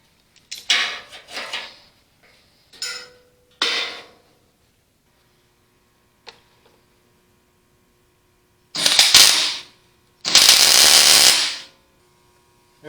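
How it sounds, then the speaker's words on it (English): Bursts of arc welding on cracks in the grille shell of an Allis Chalmers WD45 tractor, several short crackling spurts early on, then two longer loud sustained hissing runs near the end with silent gaps between. "Get these cracks welded up on the grill shell."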